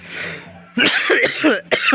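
A few harsh, close coughs in quick succession, a throaty burst followed by two more coughs.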